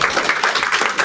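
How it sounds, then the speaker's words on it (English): An audience at a book review event bursts into applause, a dense, steady wash of many hands clapping close and loud throughout the brief moment. "A big round of applause for..."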